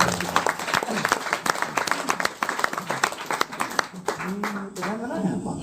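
Audience applause with hand clapping at a coordination meeting, steady and fairly close, with voices talking over it toward the end.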